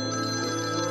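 A telephone rings steadily with a continuous electronic trill, close and fairly loud, with no voices.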